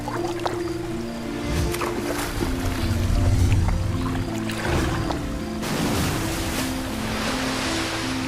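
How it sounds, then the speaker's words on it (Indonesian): River water is struck and churns in a loud, sustained rush of splashing and surging, heard alongside steady music with no voices. "Menak Sopal kemudian masuk ke dalam sungai dan memukul air sungai tersebut."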